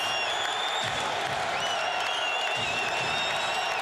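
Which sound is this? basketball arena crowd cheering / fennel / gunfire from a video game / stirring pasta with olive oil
basketball arena crowd cheering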